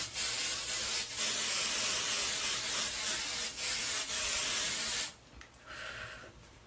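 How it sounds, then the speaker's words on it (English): Liquid setting spray mists onto a face from about six inches away in one long continuous hiss lasting about five seconds, close and fairly loud, then it stops and a quieter rustle follows. "and just start spraying"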